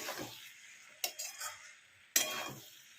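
A utensil scrapes and stirs fish curry with small-cut eggplant in a pan, giving a few quiet clinks and scrapes, with soft sizzling underneath.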